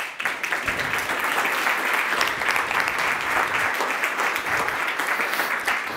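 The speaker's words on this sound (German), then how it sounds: "Bitte einen Applaus. Applaus." Sustained applause from a seated audience at the presentation of Austria's new film incentive model, dense overlapping claps filling the whole stretch at a steady, fairly loud level with no break.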